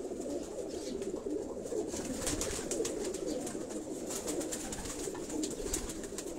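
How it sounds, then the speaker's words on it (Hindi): Low, rolling coos of male pigeons overlap steadily throughout, a dense flock murmuring close by with soft rustles and occasional higher chirps above. "ये सारे नर कबूतर हैं उनके माशाल्लाह।"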